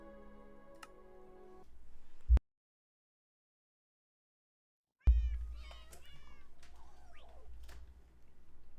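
Cats meowing in the video game Minecraft, several short high mewing calls in the second half after a silent gap, preceded by steady in-game ambience and tones, fairly close and clear.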